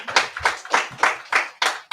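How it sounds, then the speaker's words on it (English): A group claps together for the women who cooked at a Purim feast, with about seven distinct bursts of hand claps in a loose, uneven rhythm, close and fairly loud. "Clap it up for them."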